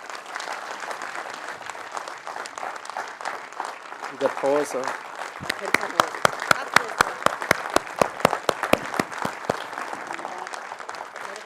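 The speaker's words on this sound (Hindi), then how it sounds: "आपका ताली रुकना नहीं चाहिए।" Audience applause at a business felicitation event in India, a dense sustained crowd clapping with some sharp individual claps standing out, voices talking over it.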